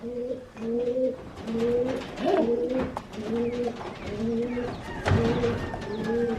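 Thoroughbred racing pigeon cocks coo in a loft, a close, steady series of repeated low rolling coos in rhythmic pulses, with faint rustling and flutters in the background.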